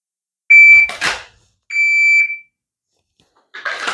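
A par timer gives two sharp electronic beeps during dry-fire pistol practice for a USPSA match, each followed by a quick clack of drawing from a holster, with a further clatter at the end.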